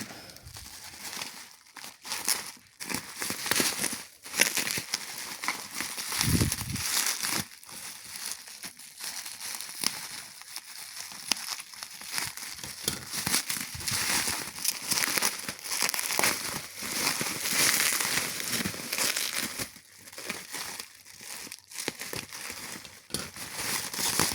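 Wrapping paper crinkles and crumples continuously while being pulled off and balled up during a Pullip UD doll unboxing, close and fairly loud, with dense crackling and occasional sharper rustles throughout.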